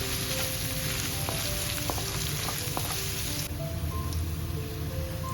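Mustard seeds, chopped ginger-garlic, green chillies and curry leaves sizzle steadily in hot oil while cooking kappa mutta perattu, with a dense crackle and scattered pops and spatters throughout, no voices.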